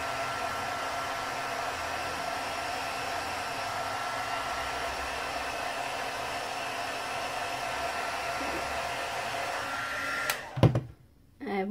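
A heat gun blows a steady, loud whooshing stream of hot air to melt a layer of embossing powder during stamping heat embossing, running nearly continuously before cutting off abruptly near the end.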